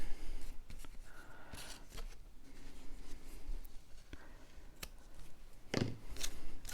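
Scissors trim paper in a few soft, scattered snips at close range, quiet cuts and light rustling on a tabletop.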